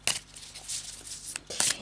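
A Dame Darcy tarot deck of short, fat cards is riffle-shuffled close up, with a crisp papery flutter at the start, a softer middle stretch and a second burst of shuffling at the end.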